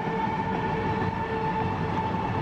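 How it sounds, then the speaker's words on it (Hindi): A powerful Indian locomotive hauls a double-decker container freight train, giving a steady rumbling rail roar with a sustained tonal whine, close and continuous with no voices. "ये अब तक का भारत का सबसे पावरफुल लोकोमोटिव भी है"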